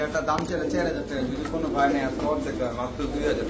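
Pigeons coo softly in a repeated rhythm close by, mixed with a busy background of people talking at a pigeon sale.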